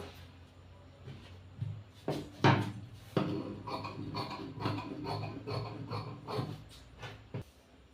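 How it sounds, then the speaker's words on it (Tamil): Fabric strip being cut for a blouse with scissors, giving a run of soft snipping and rubbing sounds, close and moderately loud, with no talk. "இப்போ வந்து பட்டி கட் பண்ணிக்கலாம்"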